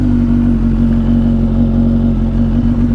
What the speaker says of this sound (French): voilà, c'est une moto